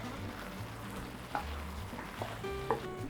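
Spinach, chicken sausage, feta and pasta tossed in a pot, a soft stirring and shuffling close by with a few light knocks over a quiet room hum.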